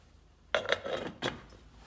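A metal lid set onto a simmering pot of morogo stew, giving a few sharp clinks and a rattling settle, fairly close and alone.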